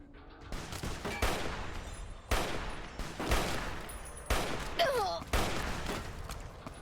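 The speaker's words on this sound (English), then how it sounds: "stop shooting at me" Bursts of gunfire from the video game Fallout: New Vegas, several sharp volleys of shots in a steady rhythm with brief gaps, loud and close, with a voice speaking underneath.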